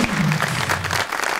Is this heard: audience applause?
yes